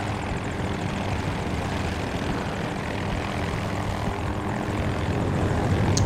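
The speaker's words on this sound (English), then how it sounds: "There's another heli." Helicopter rotor and engine drone from Battlefield 2042 gameplay, likely the MD540 Nightbird, a steady loud whir with faint rhythmic rotor chop that holds for about six seconds with no talk.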